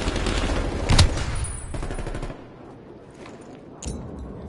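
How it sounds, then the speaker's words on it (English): Flashbang grenade going off in a first-person shooter video game: a sharp loud burst near the start, then a noisy rumbling stretch that drops away, with a few fainter bangs trailing after. "Flashbang."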